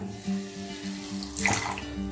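Water is poured into a pan for sugar syrup in a home kitchen, a short splashing trickle over a steady low hum, close and moderately loud, with no talking.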